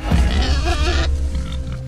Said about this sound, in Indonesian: ternyata pergerakan itu berasal dari oek-oek-oek alias babi hutan